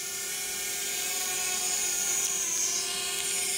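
A DJI Mini 1 drone hovers nearby with a steady, high-pitched propeller whine that holds even and continuous throughout, with no talking over it.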